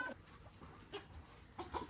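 Farm chickens clucking nearby, a few short, soft clucks spaced irregularly over a quiet outdoor background, with no talking.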